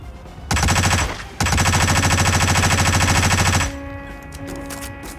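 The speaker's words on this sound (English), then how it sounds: "Who's shooting at me?" Automatic gunfire in the video game Hitman comes in two long, loud, rapid machine-gun bursts. The first is short and the second much longer. A softer rumbling ambience follows.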